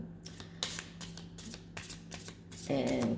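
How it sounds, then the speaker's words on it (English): A deck of Kipper fortune-telling cards is shuffled by hand, with rapid riffling flutters and soft slaps, close and steady, while a faint tone runs underneath and rises toward the end. "So let's reshuffle"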